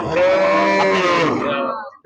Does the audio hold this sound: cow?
yes